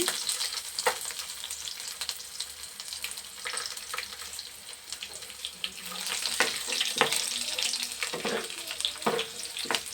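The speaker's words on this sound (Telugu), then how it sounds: "కదండి, వెల్లుల్లిపాయ రేఖలు వేస్తున్నాను." Garlic slices fry in hot oil with a steady, close sizzle and crackle throughout, broken by a few sharper clinks and pops; no one speaks.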